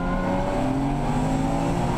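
BMW touring race cars, including a 1 Series GTR and a 3 Series, roar past at the Nürburgring in a Supercar Challenge round, a loud continuous engine drone with steady high revs and no break.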